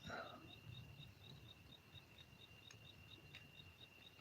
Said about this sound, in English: The crickets, believe it or not, that is one of my favorite sounds.